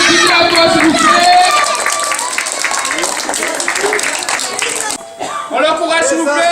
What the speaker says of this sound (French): On applaudit à toi, s'il vous plaît.